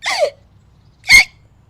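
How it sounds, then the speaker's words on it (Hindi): Two loud hiccups ring out, one at the start and another about a second later, sharp and close with silence between them. "बहू बोलने ही जाती है कि जोर से हिचकी आ जाती है।"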